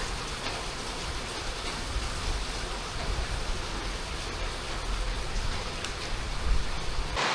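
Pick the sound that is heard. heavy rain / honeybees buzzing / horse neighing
heavy rain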